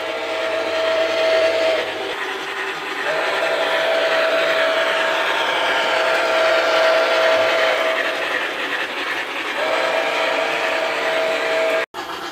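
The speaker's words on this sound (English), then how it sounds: "So enjoy watching the J series engine and the passenger train that goes with it" A J series locomotive hauls its passenger train past in a loud, sustained rumbling roar with steady tonal whines layered over it. The sound is close and continuous, with no talking.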